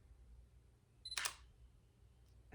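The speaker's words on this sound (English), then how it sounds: "It has a physical shutter, I believe, so the sound is real." A camera's physical shutter fires once, a sharp, close mechanical click over faint room hiss, with a tiny tick near the end.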